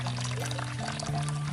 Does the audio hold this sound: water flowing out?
yes